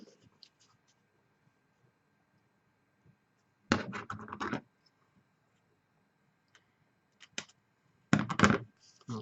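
Scissors snip the edges of book-page paper tags in two short bursts of crisp cutting, each lasting under a second, with faint scattered clicks and light paper handling between them and no talk.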